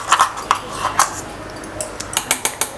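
Homemade almond butter is spooned into a bowl with dates for a sugar-free chocolate spread, heard as sharp, bright clinks of a spoon against the bowl in irregular clusters, with soft scraping between.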